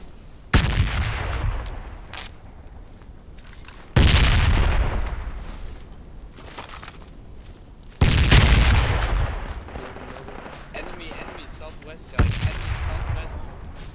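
Loud gunfire in the Project Reality video game, four heavy booming shots spaced a few seconds apart, each trailing off in a long echo over steady background noise.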